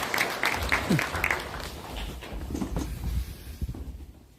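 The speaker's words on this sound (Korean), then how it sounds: "네, 다시 한번 큰 박수 부탁드립니다." A crowd at a Democratic Party event claps, starting strong and then fading. Voices murmur in the room as the applause tapers off.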